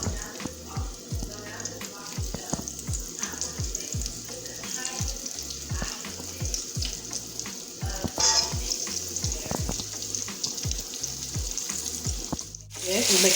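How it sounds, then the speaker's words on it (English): Sweet potato pieces frying in hot oil, a steady crackling sizzle with rhythmic scraping stirs throughout and a brief clatter near the end, no talking. "So I'm going to fry some sweet potato in the oil."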